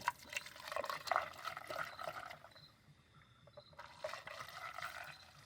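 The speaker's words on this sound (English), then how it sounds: "put the CLR dollar store stuff in there" CLR cleaner from a dollar store being poured into a truck's cooling system for a coolant flush, a soft gurgling trickle of liquid that pauses briefly then resumes, faint and close.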